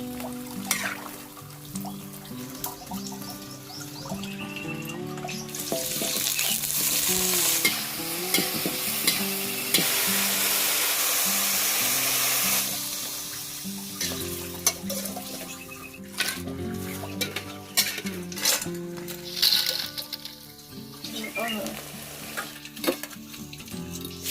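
A spatula scrapes and stirs food frying in a pan, with a loud hissing sizzle in the middle stretch and clattering utensil knocks and brief tonal scrapes around it, close by and without speech.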